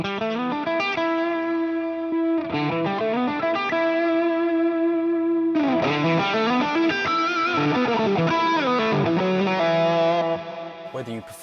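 Electric guitar run through modeled legendary overdrive pedals in an Axe-Fx, playing driven chords and melodic lines with a short pause, loud and continuous with reverb, no talking.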